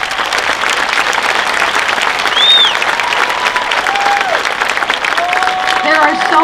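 A high school graduation crowd applauds classmates entering military service, with loud, sustained clapping filling the space and scattered cheers and whistles rising above it.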